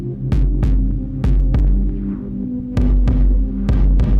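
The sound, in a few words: synthesized kick drum in VCV Rack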